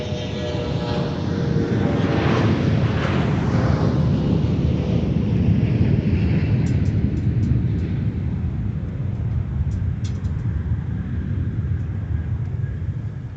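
A Delta Connection CRJ 900 LR jet operated by Endeavor Air departs MSP airport, producing a loud, continuous broadband roar that fills the whole stretch without a break and slowly thins toward the end.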